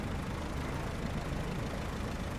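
Tractor engine in the SnowRunner driving game, stuck in place with four-wheel drive engaged, labouring with a steady low rumbling drone that stays constant and fairly loud throughout, with no talking.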